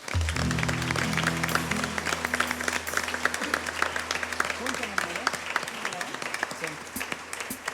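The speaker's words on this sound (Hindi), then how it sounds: "आइए हम परमेश्वर को तालियों का भेंट दें।" Congregation applauding at a Sunday church service, dense steady clapping throughout with a sustained musical tone underneath at the start.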